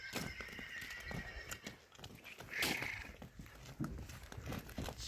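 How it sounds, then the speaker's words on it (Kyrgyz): A foal offered for sale in a Kyrgyz village neighs loudly around the middle, with scattered hoof clip-clops and shuffling as it is led about, plus light rustling throughout. "жакшы экен кулунун."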